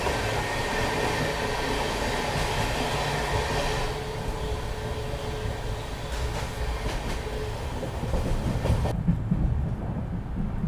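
Trains rumble past one another on an Indian railway line between Rajkot and Mumbai, a steady loud roar of wheels and carriages with rhythmic clatter, heard from aboard the Saurashtra Mail.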